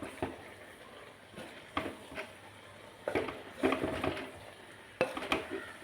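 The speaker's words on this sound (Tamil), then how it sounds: "லைட்டாக எல்லா காய்கறி கூடயும் இந்த தேங்காய் மிக்ஸ் ஆகிற அளவுக்கு அப்படி நல்லா கிண்டி விடுங்க" A spoon stirs a coconut mix into cooked vegetables for Nagercoil-style avial, with repeated scraping and clinking strokes against the pot in irregular bursts over a faint background sizzle.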